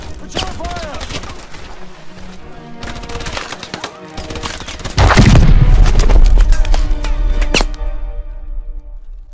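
Gunfire and explosions erupt during a Call of Duty: Advanced Warfare cutscene, with rapid rifle shots and impacts building into a loud, sustained roar of battle and a heavy boom. Voices shout over the fighting.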